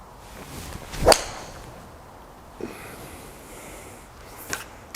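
TaylorMade 2 iron striking a golf ball, one sharp swish and crack close by, followed by fainter brief knocks and rustles on a quiet range.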